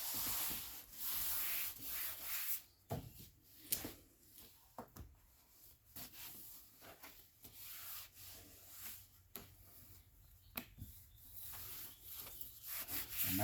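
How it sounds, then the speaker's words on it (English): Cloth wiping excess rust treatment off metal on a 1997-2004 Jeep TJ, a repeated soft rubbing and scrubbing in uneven strokes, close and moderately quiet with no talking. "Just go ahead and wipe your excess."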